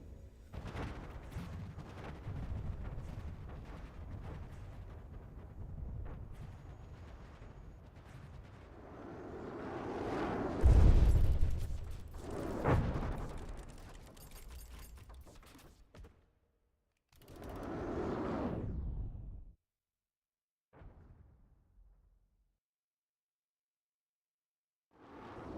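Missiles exploding in a video game fight against the Twin Guard, a run of heavy booming blasts and rumbling impacts that swell to a loud peak, then break into shorter separate bursts with quiet gaps between.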